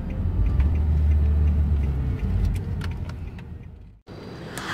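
Interior of a moving Uber car in Melbourne: a loud, steady low engine and road rumble that drops out abruptly near the end before resuming.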